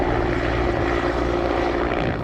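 A Mi-17 V5 military transport helicopter in flight, heard as a steady, loud droning engine and rotor roar that holds even throughout, with no talk over it.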